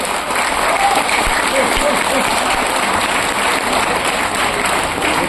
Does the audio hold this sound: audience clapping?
yes